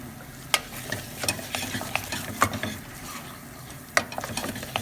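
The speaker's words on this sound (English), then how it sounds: "I decide to stir the flour first, so I don't have a lot of crumbs, and I mix with a lot of energy" Flour being stirred energetically into choux pastry dough in a pan, rapid irregular scraping and knocking strokes over a faint sizzle, close and fairly quiet.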